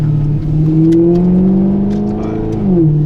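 A Maserati GranTurismo Sport engine revs loudly and continuously, its pitch climbing and then dropping sharply at a gear change with a small crackle, followed by another rising rev.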